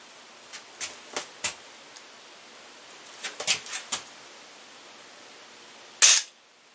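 A Walther CP99 Compact CO2 airgun is fired over a chronograph in a series of sharp, close pops with irregular spacing, followed by one louder burst near the end.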